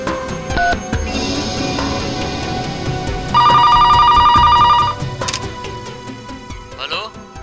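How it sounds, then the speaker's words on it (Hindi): A telephone rings with a burst of rapid electronic trilling in the middle, surrounded by background noise and other tones. "मालकिन, बिंदिया जी के लिए फोन आया है"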